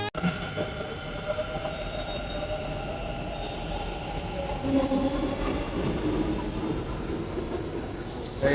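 A metro train at Konanakunte metro station in Bengaluru gives a steady, fairly loud rumble with a faint squeal of wheels throughout, with no clear talk over it.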